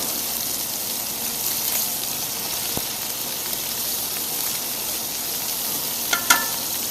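Seafood searing in a paella pan, an even, steady sizzle close by with little variation and a couple of brief clicks near the end.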